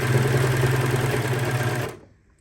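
A sewing machine stitches fabric for a Disney hat or neck warmer, giving a loud, steady close whirring hum that stops abruptly near the end, with no voices.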